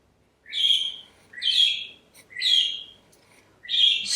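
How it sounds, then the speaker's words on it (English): Loud Australian birds give four strong, whistled calls at a steady rhythm, each rising and falling with short pauses between, ringing out clearly with no voices. "Australia, home of the loud birds."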